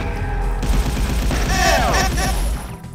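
Rapid SMG fire in a Doom mod shooter, a dense burst of close, loud shots lasting most of the stretch with crashing impacts and game effects layered over it, then cutting off near the end.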